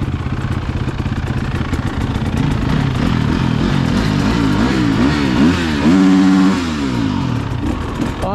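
Off-road motorcycle at Johns Peak OHV, engine revving and accelerating continuously, loud and close, with rising and falling pitch as the rider works through gears over rough terrain.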